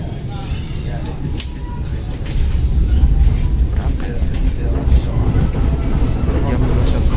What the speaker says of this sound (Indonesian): kereta apinya udah tiba di stasiun Gambir